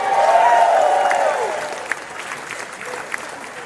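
Audience applause, loud at first and gradually thinning out, with a few scattered claps and faint crowd noise continuing toward the end.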